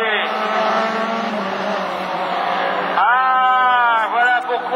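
A Division 4 rallycross car at the 2013 Lessay meeting has an engine fault and runs on three cylinders. Its engine strains loudly and unevenly, rising and falling in pitch as it races past, under continuous race commentary.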